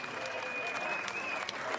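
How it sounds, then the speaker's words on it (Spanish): Audience applause for the sound and effects crew at a live show, a dense, steady wash of clapping throughout, with a faint high tone running beneath it. "quiero pedir un aplauso para la gente de sonido y de efectos"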